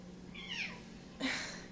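A house cat gives two short, faint meows about a second apart, the second brighter and more clipped, against a quiet indoor hum.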